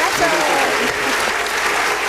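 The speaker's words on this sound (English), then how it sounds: "With a round of applause, welcome aboard" Studio audience applause on an Adom TV talk show, welcoming a gospel singer aboard; dense, steady clapping fills the whole stretch with a voice faintly underneath.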